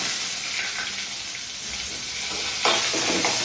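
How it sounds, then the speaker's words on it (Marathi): Sliced onion with curry leaves frying in a pan for jowar bhakri pieces, a steady close sizzle with a brief stir burst near the end, no talking. "कांदा परतायला घातलेला आहे"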